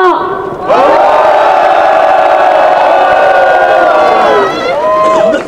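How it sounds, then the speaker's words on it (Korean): Crowd at an election rally in Korea roaring and cheering together in one sustained, loud swell of shouts for several seconds, with a brief lull before and after. "다 함께 크게 함성 부탁드립니다"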